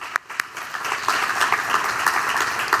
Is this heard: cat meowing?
no